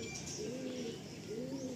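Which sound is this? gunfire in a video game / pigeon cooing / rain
pigeon cooing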